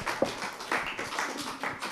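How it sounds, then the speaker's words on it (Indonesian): Children clapping for a young performer at a Quran study session, a steady patter of small hands that rises in short bursts and fills the two seconds without a break. "Kita undang Ananda Muhammad Firza atau adik Firza, kasih tepuk tangannya biar lebih semangat"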